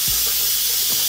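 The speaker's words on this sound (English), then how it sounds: "Coop, it's time to release the steam." Steam released from a pressure cooker during home cooking, a loud, steady hiss running without a break for the whole second, close and alone.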